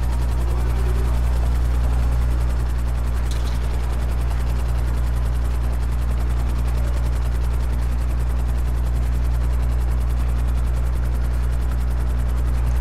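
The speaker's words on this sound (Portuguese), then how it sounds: "eu bati em outro helicóptero da polícia" A police helicopter in GTA Online thumps steadily overhead, its loud rotor drone filling the whole span with one brief sharp click near the start.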